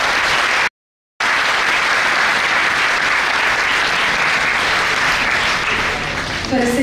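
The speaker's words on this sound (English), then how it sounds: "We must once again applaud all our panelists as well as our moderator." A panel-discussion audience at a law college in Mumbai breaks into sustained applause, a dense, steady wash of many hands after a brief silent gap, with faint voices rising near the end.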